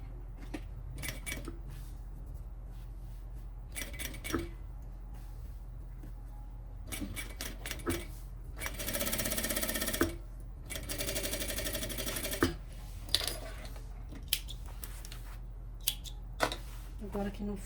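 An industrial sewing machine stitches a sublimated pouch in short runs, a steady whirring burst standing out near the middle, with quieter mechanical clicks and handling noises around it.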